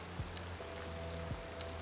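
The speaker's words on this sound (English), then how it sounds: "it is raining like crazy" Steady heavy rain hisses evenly in the city-building game Cities Skylines 2, a constant close wash of water with faint tones over it and no talking.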